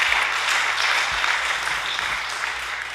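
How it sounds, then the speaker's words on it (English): A conference audience claps after a lecture, a moderate, even wash of applause from a roomful of listeners, heard alone without talk. "I will give Kim a round of applause for his excellent lectures"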